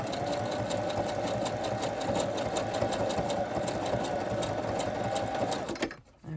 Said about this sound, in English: I think I'm going to do a bigger cross, like zigzag stitch